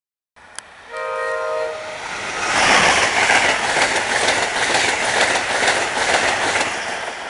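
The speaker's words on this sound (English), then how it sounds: "And that was an Acela train." A train horn sounds briefly before an Amtrak Acela passenger train roars past close by at Edgewood MARC station, Maryland, rushing and rattling loudly for several seconds.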